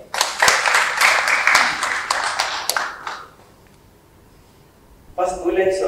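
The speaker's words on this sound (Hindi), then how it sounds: "जोरदार ताली।" Loud, dense applause rings out at an award ceremony in Mumbai for about three seconds, then fades to near quiet before a voice begins speaking.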